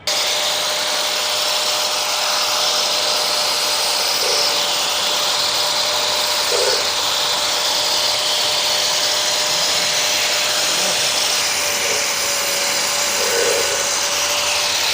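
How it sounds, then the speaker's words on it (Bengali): A fish-cutting machine runs steadily with a continuous broadband whir, loud and close, holding a constant tone throughout with a faint intermittent knock now and then. "এই যে মাছ কাটছি দেখতে পাচ্ছেন"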